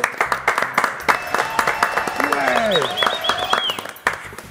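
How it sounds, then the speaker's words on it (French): A television studio audience claps loudly in a dense burst of applause, with a whistle rising over the clapping partway through before it fades. "Applaudissements s'il vous plaît."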